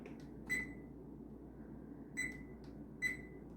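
A kitchen timer sounds while Métis bannock bakes in a pan, giving three short, clear electronic beeps spaced about a second or more apart over a low steady kitchen hum.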